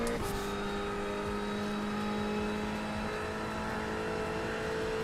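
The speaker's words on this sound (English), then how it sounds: "this car sounds like a power drill" A high-pitched race car engine in the iRacing simulator whines steadily at high revs, buzzing and sustained like a power drill, with a brief sharp burst at the start.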